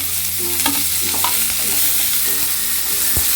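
Onions and garlic sautéing in a pan, with steady frying sizzle, scraping stirs and a few sharp clinks of a spoon against the pan, close and fairly loud throughout.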